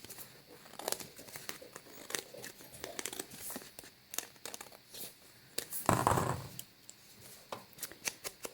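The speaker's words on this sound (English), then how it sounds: "if a little bit overhangs, it's really easy just to trim that off with your scissors." Scissors trim a bit of overhanging paper on a handmade hardcover journal, quiet crinkling and snipping in irregular short bursts, with a louder crunch midway, close and soft.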